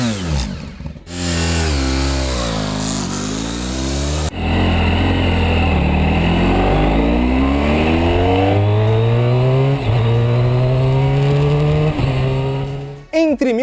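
Exotic car engine roaring close up, climbing through revs in repeated rising sweeps, with a short lift around the middle before pulling hard again, loud and dominant throughout.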